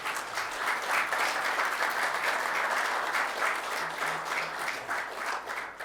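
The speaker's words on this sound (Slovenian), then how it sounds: "lahko zaploskamo" An audience at a Slovenian-Israeli friendship day ceremony breaks into sustained applause, with dense, even clapping from many hands that holds steady for several seconds.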